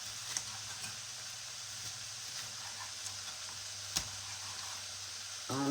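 Beef sausage sizzling in a pan over medium-low heat as its fat renders, a steady faint hiss with a few small pops and clicks throughout.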